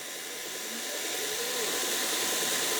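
A Volkswagen Touareg's EA837 3.0T engine, rebuilt five years earlier and fitted with serviced ignition coils, idles with a faint, steady, even hum and no audible knock.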